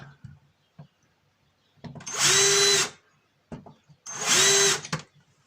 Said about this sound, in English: just pre-drill that.